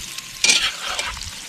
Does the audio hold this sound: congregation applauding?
no